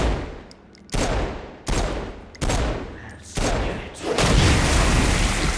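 Gunfire in the video game Saints Row: Gat out of Hell: bursts of rapid shots and booming blasts come in several waves, growing denser and louder toward the end.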